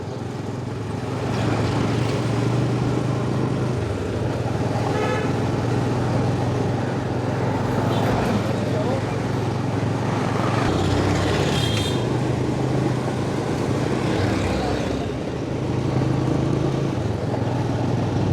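Car driving from Marikiti Market toward Nyali through Mombasa rush-hour traffic, a steady loud engine and road drone with passing vehicles and occasional horn-like tones, no talk.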